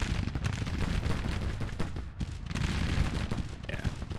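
Artillery fire in the Civil War strategy game Grand Tactician, a dense, continuous rumble of booming cannon and volleys with a brief dip midway, fairly loud throughout.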